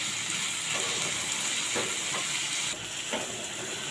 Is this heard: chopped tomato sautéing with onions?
yes